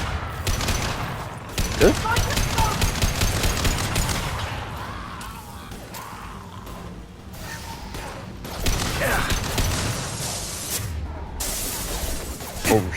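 Heavy gunfire from a firefight aboard the Collector Ship in Mass Effect 2 Legendary Edition, a dense, continuous barrage of shots and impacts under occasional brief talk.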